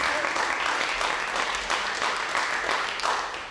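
Audience applause at a slam poetry competition in a cultural centre, dense steady clapping from a crowd, loud and close, carrying on without a break for a few seconds.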